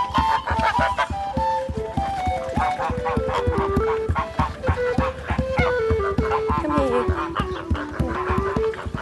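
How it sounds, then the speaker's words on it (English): Geese honk and cackle repeatedly on a historical farm as they are taken out, a busy close chorus of calls with a person speaking briefly among them. "We've also got geese in the pond!"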